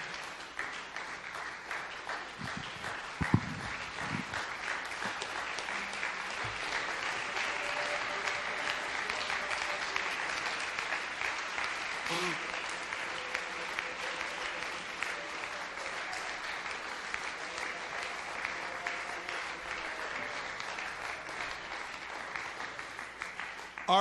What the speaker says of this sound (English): Stand to your feet and clap your hands to the Lord.